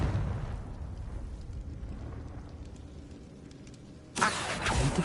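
In the video game Hogwarts Legacy, a low rumbling wash of noise gives way to the sudden burst of a Confringo fire spell explosion: a loud, broad blast that lingers briefly near the end, with no talking.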